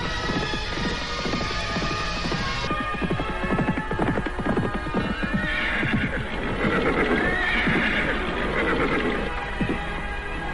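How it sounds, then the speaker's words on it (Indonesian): Horses being ridden, with steady clip-clopping hooves throughout and several loud neighs and whinnies rising over the trotting, close and without talk. "Setelah hampir setengah harian mereka berkuda,"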